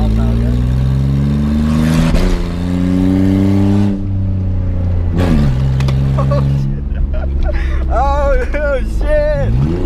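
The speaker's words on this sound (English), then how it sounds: "do a burnout now, okay?" An $800 Ford Mustang revs hard during a burnout, its loud, close engine climbing and falling in pitch through several throttle bursts with brief dips, while high squealing tones and voices break in toward the end.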